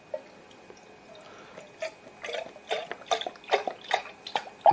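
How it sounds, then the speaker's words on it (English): Prune juice poured from a bottle into a tankard, a run of short splashy drips and glugs that grow louder and closer together toward the end, fairly quiet with no talking. "let's pour a little into the tankard"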